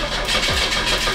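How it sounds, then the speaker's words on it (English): A cheap Ferrari's engine cranks, a loud, steady, rough churning drone that runs throughout without catching. "It's cranking."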